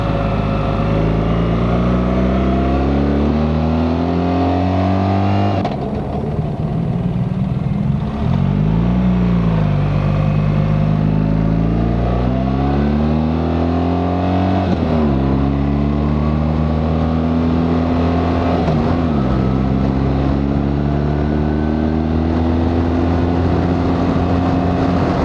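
A car's engine drones loud and steady while engine braking down a mountain hairpin road between Italy and Switzerland, its pitch sliding up and down through gear changes and bends across a long stretch, no talking.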